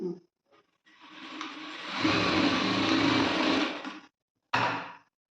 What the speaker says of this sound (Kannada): ಈಗ ಮೂರು ಇಂಚಿಗೆ ನಾನು ಸ್ಟಿಚ್ ಮಾಡ್ತೀನಿ